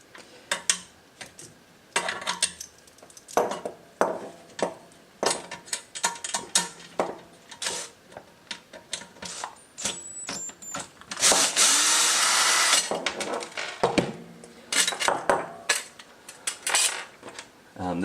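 On a KTM 390 Duke, Phillips head screws and 10mm lock nuts come off the license plate with repeated metallic clicks, ratcheting and small clinks of hardware, plus a burst of rattling partway through.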